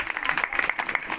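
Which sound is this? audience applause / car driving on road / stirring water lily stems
audience applause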